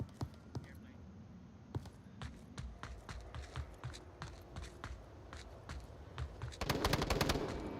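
Gunshots in a shooter video game match, sharp separate cracks spread through the clip, then a faster, louder burst near the end, with quiet commentary underneath.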